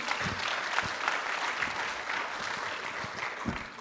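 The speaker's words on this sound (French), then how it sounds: "on lui donne un applaudissement pour l'encourager" An audience at a public citizens' forum on energy choices applauds a speaker, a full, even roar of many hands clapping that carries steadily at a moderate distance with a few louder individual claps.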